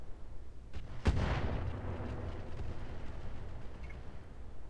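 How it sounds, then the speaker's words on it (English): A single sharp minefield detonation in the BattleTech game Roguetech, a loud close crack followed by a long fading rumble, with a faint earlier thump before it, set against quiet background noise. "I think that's a minefield."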